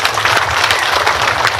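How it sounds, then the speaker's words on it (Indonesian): Audience applause during a humorous Islamic sermon delivered before government officials: steady dense clapping from a crowd, sustained and fairly loud throughout with no clear break. "Tepuk tangan dulu."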